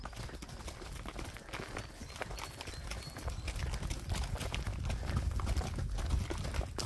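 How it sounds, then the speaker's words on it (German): Hooves of several horses clip-clop at a slow, easy walk as a herd is moved up to mountain pasture, a steady uneven patter close by that grows a little louder toward the end. "wir lassen die Pferde nicht rennen, sondern machen ganz gemütlich langsam. Und die kommen auch hinterher."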